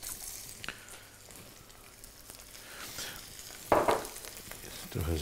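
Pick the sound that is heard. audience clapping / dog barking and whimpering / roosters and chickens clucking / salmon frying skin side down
salmon frying skin side down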